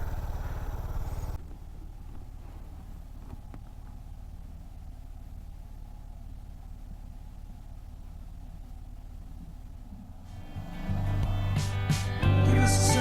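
A Fortress 160 motorcycle engine idles steadily, then revs louder near the end as it gets going, close by with no talking.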